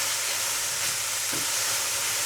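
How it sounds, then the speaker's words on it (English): Chopped garlic fries and sweats in a pan with a constant soft sizzle and hiss. It sits close and steady for the whole moment, and no one talks over it. "while that's just frying off, sweating down"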